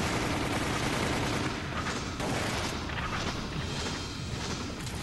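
Repeated shotgun blasts at bats in Resident Evil Umbrella Chronicles, loud dense bursts and booms packed together with little pause across the whole stretch.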